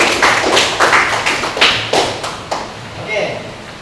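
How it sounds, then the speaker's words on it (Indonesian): Students in an Indonesian classroom clap for a classmate, a quick run of separate, fairly loud claps that fades toward the end while voices talk over it. "Tepuk tangan dulu buat Jarah."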